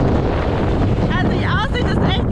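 Strong gusting wind on a sunny ski slope at Bad Gastein, Austria, roars loudly and steadily into the microphone, with faint higher whistling tones partway through.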